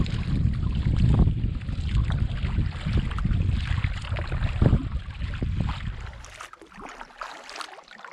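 A Sea Eagle Razorlite 393RL inflatable kayak moves across windy Saranac Lake, with heavy wind buffeting the microphone and water sloshing and splashing close by, easing toward the end.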